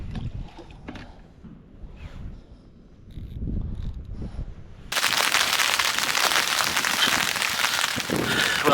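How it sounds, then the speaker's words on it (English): Rain falling outdoors at Lindholme Lakes fishing lake, starting softly with scattered drops and knocks, then a sudden loud, dense hiss of heavy rainfall that continues steadily to the end. "the rain as forecast has come in"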